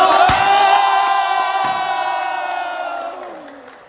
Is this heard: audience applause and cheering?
yes